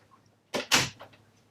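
An RV door swings shut in a quick two-part burst, a brief rattle and then a firmer clack, close and fairly loud against near silence.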